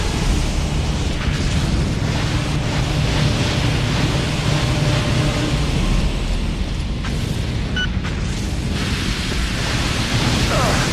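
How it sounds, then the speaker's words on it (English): Continuous loud roaring blast noise of explosions in the firefighting video game Firefighter FD 18, dense and sustained throughout with no clear pauses. "Watch out for explosions!"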